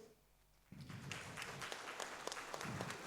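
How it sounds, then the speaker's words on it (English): After a short near-silent pause, an audience at a cloud security meetup bursts into applause for Team 6, placed third. Sharp overlapping claps swell quickly and keep going at moderate loudness. "Round of applause for Team 6."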